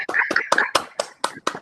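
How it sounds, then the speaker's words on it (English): A few people clapping over a video call, sparse separate claps in a loose uneven rhythm, close and slightly clipped like sound through a laptop microphone. "Everybody take off your mute and let's give Leah applause such as it is"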